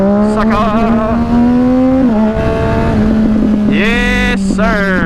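A 2010 Triumph Daytona 675 motorcycle, ridden with a quick shifter, revs hard through a wheelie, its engine note climbing and dropping with quick shifts, loud and close throughout.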